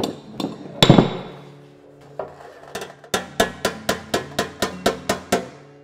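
A hammer and dolly tap a bent steel fender flange, beginning with a few scattered metallic knocks and then a steady run of about ten evenly spaced, ringing taps close by.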